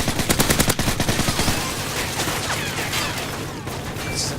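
An MP7 fires a rapid automatic burst in Call of Duty: Modern Warfare 3, loud and close, followed by fading echoes and game ambience.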